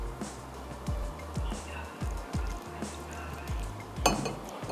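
Chicken tempura batter whisked in a bowl, a quick repeated rhythm of clinking, slapping strokes against the bowl with wet squishy mixing, close and alone.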